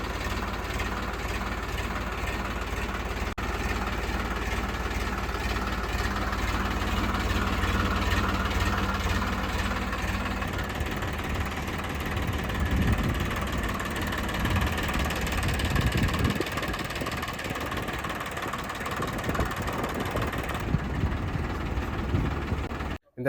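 A Powertrac Euro 47 Super Max tractor engine idles nearby with a steady, heavy low drone that holds at an even level and stops abruptly at the end.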